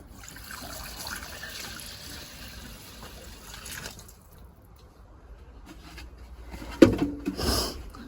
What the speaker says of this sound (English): Put a load of water in there.